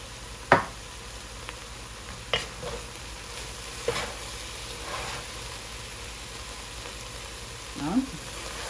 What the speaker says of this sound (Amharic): አሁን በደንብ እንቀላቅላለን።